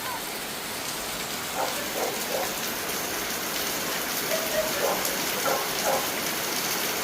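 Steady rain falls outdoors as an even, continuous hiss, fairly loud and unbroken, with a few faint tonal sounds drifting over it.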